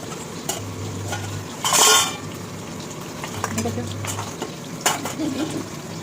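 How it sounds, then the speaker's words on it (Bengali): Fish fries in oil in a small pan, giving a steady sizzle broken by sharp crackling pops, one loud burst near the start, and light clinks of a utensil. "মাছগুলো ফাটছে বাবা ফটফট করে"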